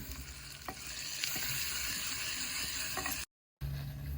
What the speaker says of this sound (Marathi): आता चांगली असं परतून घ्यायचं कढीपत्ता पण घातला